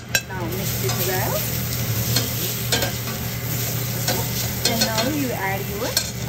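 Spices with black pepper and turmeric stirred in a sizzling pan while sautéing moong, a steady close fry with repeated scraping strokes of the spoon and no talking.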